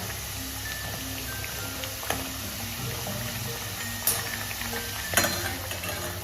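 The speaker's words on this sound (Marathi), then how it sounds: "आता आपण हा उलटून घेऊ. मंद आचेवर तळून घ्यायचा." Sabudana vada deep-frying in oil over a low flame, with a soft continuous sizzle, occasional clicks and a few sharper utensil knocks as it is turned, no talking.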